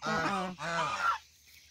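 Geese feeding in a garden let out two loud, nasal honks in quick succession, close by, followed by quiet.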